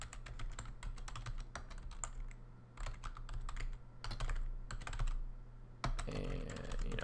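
Domain names typed on a computer keyboard, with quick bursts of close, clattering keystrokes broken by short pauses, heard alone over a low steady hum.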